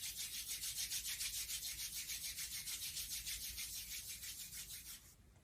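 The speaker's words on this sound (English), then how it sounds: "rub your palms together again" Palms rub together steadily in a quiet room during a hatha yoga session, a continuous close dry swishing with a gentle back-and-forth pulse that fades near the end.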